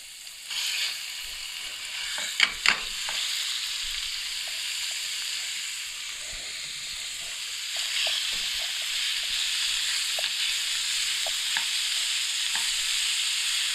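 Half a kilo of minced beef (keema) fries in a pan with a loud, constant sizzle, and a utensil scrapes through it in repeated stirring strokes, with a couple of sharper knocks early on.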